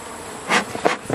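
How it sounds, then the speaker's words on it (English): Honeybees buzz close by in short, rising and falling passes around an open hive during a honey harvest, a busy insect drone with no voices. "they're gonna bump us"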